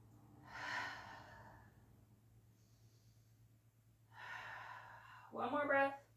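Deep breathing during a core-focused yoga workout: two slow, audible breaths drawn through the nose and released, the second ending in a sharper snort-like exhale, heard close over a low steady hum.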